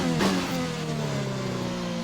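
Renault-engined Formula 1 car in a racing video game revs high and close, its engine pitch climbing and then holding steady while a brief whoosh passes early on.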